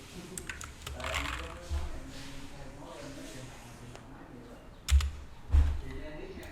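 Keys on a computer keyboard are pressed in a few light taps while installing macOS Ventura on a PC, with two firmer key strikes near the end over a low background hum.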